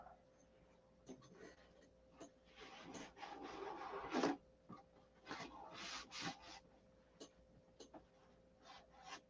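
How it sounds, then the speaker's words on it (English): Hand sanding paint off an aircraft rudder: irregular scratchy rubbing strokes of varying length, some louder bursts in the middle, close and alone without speech. "Let me get that sanded off."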